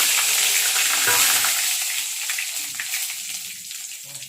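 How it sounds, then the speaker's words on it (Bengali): Cumin seeds, whole garam masala, dried red chilli and bay leaf splutter in hot oil as a tempering for papad curry, a bright close sizzle that is loudest at first and then settles lower, with light stirring and no talk. "এই আমি জিরে ফোড়ন দিলাম, এই গোটা গরম মশলা, শুকনো লঙ্কা, এই তেজপাতা"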